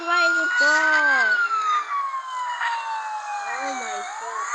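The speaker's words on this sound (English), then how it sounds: "Oh my god, this ambulance." An ambulance siren in the car crash video game CCV3 wails loudly with rising and falling sweeps, while someone talks over it in bursts.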